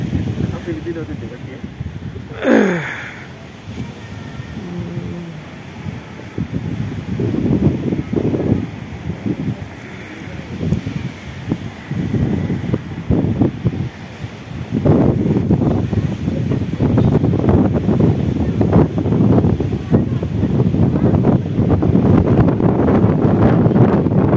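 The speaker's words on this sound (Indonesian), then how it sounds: "Cuaca hari ini lumayan berangin" Wind near the Canada–US border buffets the microphone in gusty rumbles throughout, with a person talking underneath the roar.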